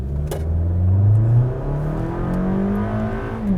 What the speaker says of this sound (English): the engine, as soon as you floor it, it is so loud